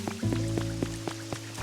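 Rain falling in the Pokemon Pokopia video game, a steady wash with soft repeated drip-like taps, set against sustained in-game musical tones; no talking.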